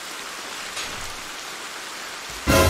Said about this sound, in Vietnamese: Trời mưa, trời mưa.